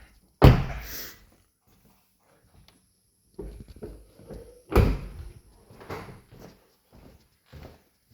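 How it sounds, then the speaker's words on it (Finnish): Two solid thunks of an Audi A8 TDI car door closing with its soft-close suction mechanism, one near the start and one midway, followed by quieter clicks and handling sounds in an otherwise quiet space. "Viimeisen oven aina kun laittaa kiinni, niin silloin on ihan hyvä toi imuovi."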